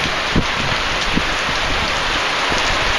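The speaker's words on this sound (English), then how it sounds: "that rain's coming in here sideways right now" Wind-driven rain during a March thunderstorm in Tennessee, blowing in sideways: a steady, dense hiss of rain pelting surfaces close by, with occasional louder splatters and no talking.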